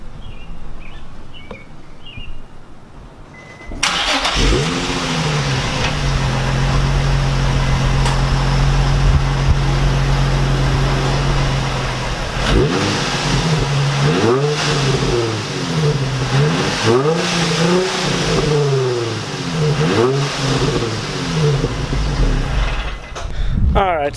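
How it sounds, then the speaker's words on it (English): A stock-exhaust Nissan 350Z cranks to life after a quiet start, settles into a steady idle, then gets several short blips of revs that rise and fall near the microphone, with faint birdsong early on. "Now I'm going to go ahead and show you what the stock exhaust sounds like."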